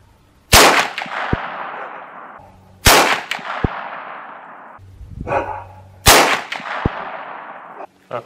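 Three loud, close shots from a 45-70 rifle firing 300 grain Super X ammunition at a 100-yard target, each a sharp crack with a decaying echo, spaced a few seconds apart.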